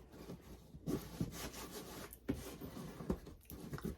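Hands rub and smooth fabric against a Dollar Tree container, producing soft, close scraping and brushing strokes in an uneven rhythm, fairly quiet, with no voices.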